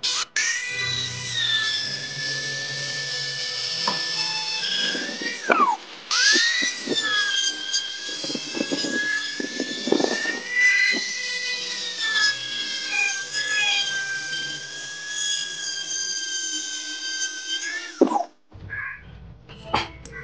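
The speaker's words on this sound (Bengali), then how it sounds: "এরকম ড্রিল বিট ব্যবহার করে এগুলো খুব সহজে কাটা যায়।" A high, steady whine of a drill bit grinding through plastic in long sustained passes, stopping and restarting, with brief clicks and handling noises between.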